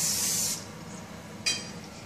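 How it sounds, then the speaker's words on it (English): Two short hissing bursts of cooking oil spray onto a pan, the first about half a second long, then a quicker second spritz, close and crisp. "Now he's going to spray it."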